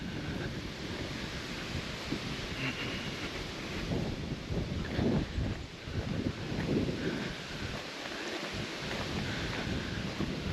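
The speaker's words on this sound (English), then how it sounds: "Boy, it's windy today." Steady, blustery wind buffets the microphone throughout beside a pond on a treed hill, a continuous low roar with gusts rising and falling, no voices.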